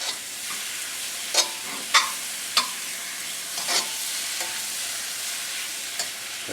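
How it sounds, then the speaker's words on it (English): Bok choy stir-frying in oil in a pan, a soft continuous sizzle broken by several sharp utensil scrapes and stirring clatters spaced a second or so apart, with no talk. "You want to mix it well in your oil."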